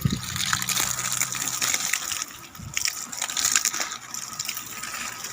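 Water gushes from the end of a hose line about 140–150 metres long fed by a Handuro 1.5 hp pump, a fluctuating splashing hiss with bright spattering and a few brief low thumps, moderately loud and without voices.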